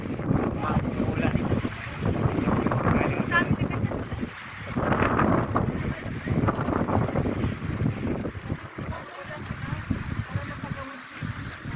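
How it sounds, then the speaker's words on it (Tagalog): Strong gusty wind in the mountains of Sagada buffets the microphone in rough, uneven surges throughout, roaring loudly with short lulls between blasts. "Lakas na po ng hangin."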